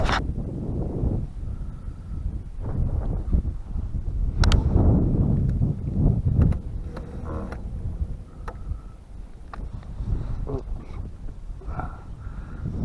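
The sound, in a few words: wind on a fishing boat in a cove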